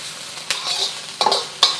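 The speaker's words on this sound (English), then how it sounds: "And stir fry this for about 3 minutes." Spicy Malaysian-style green beans are stir-fried in a hot pan: a close, steady sizzle broken by quick scraping strokes of a spatula against the pan.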